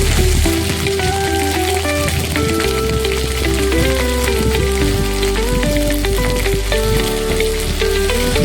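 Dried red chili and ginger fry in oil for a Bengali vegetarian curd-and-pointed-gourd dish, a steady loud sizzle that crackles unbroken throughout, with some background music, and no talking.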